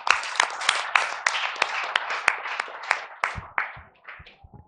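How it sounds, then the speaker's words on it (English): Audience applause for two Greek professors at a seminar-conference session, a steady burst of clapping from a room full of people that thins out toward the end. "please join me in an applaud for the two very bright Greek professors here"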